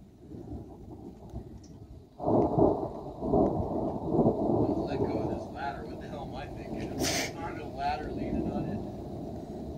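Heavy monsoon downpour during an Arizona thunderstorm, a dense steady roar of rain that swells in suddenly after two quiet seconds and keeps going, with faint voices underneath.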